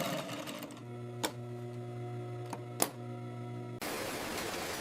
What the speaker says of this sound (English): Brand patches are swiftly sewn onto the waistband, adding the final signature.